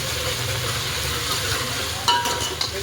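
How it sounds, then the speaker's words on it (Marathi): Ginger garlic paste fries in oil for a dal dish while being stirred, a steady close sizzle with a few brief scraping clatters of the spoon toward the end. "आता अद्रक लसूणची पेस्ट टाकूया, ढवळून घेऊया तेलामध्ये."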